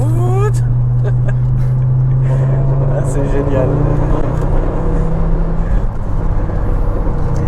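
An Audi 100 S4 Stage 3 engine revs hard and climbs quickly in pitch, loud and close, with a voice speaking briefly over it.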